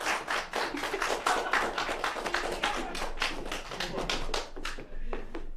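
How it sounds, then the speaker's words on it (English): Live studio audience applauding during an online entertainment show after a song, a moderately dense patter of hand claps with some uneven taps, close and fairly steady for several seconds. "Thank you for that uncanned applause."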